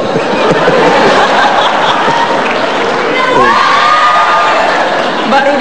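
A packed live talk-show studio audience cheers and claps loudly, with shouts and laughter mixed into a busy crowd roar.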